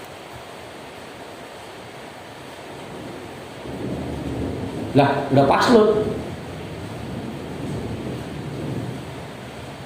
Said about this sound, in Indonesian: hujan masih baru mulai ya